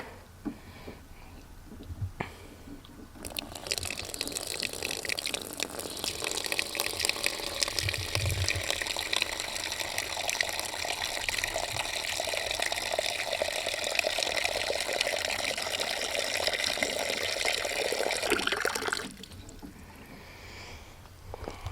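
Water pours steadily into a container for around fifteen seconds, a continuous splashing rush that begins abruptly and stops just as suddenly.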